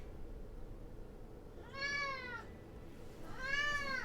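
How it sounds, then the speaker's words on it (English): A cat nearby lets out two distinct, drawn-out meows a moment apart over a quiet background hum. "Oh my goodness, please stop meowing."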